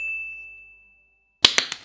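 A notification bell chimes with one bright sustained ding that slowly fades, then a quick burst of sharper clanging hits near the end.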